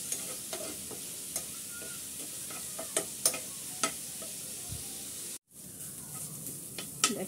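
Chicken being stirred in a pan with coriander powder and salt, giving a steady low sizzle with repeated scraping and clicking strokes, plus a brief break near the end before the stirring resumes.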